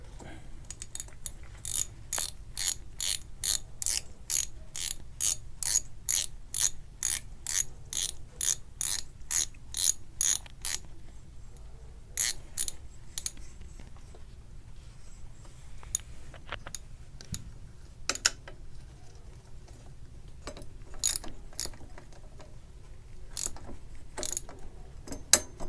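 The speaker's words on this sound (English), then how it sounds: "Use a wrench to tighten it up." Ratchet wrench tightening a bicycle bottom bracket bolt, a fast steady run of close, crisp clicks followed by slower scattered ratcheting clicks with pauses, no talking.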